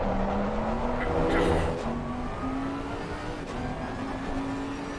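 A big Bentley race car out on a circuit lap, its engine droning steadily at sustained speed with a rising whine, holding a fairly even loudness throughout.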